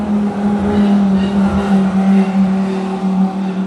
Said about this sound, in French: La voiture verte, quand elle passe, on dirait elle crie.